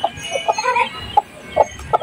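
A silkie chicken gives a run of short, close clucks and chirps, with the soft peeps of a newly hatched chick mixed in, at an irregular rhythm and with no talking.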